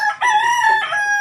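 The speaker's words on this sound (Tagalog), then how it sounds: "Manok" A fighting rooster crows close by, one loud drawn-out cock-a-doodle-doo with a harmonic, slightly strained tone.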